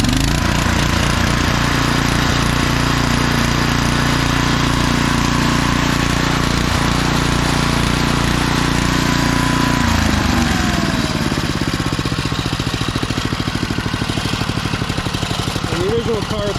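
1991 DR field and brush mower engine running hard and loud, a steady roar that shifts partway through into a rougher, pulsing rhythm as throttle changes, with voices talking over it.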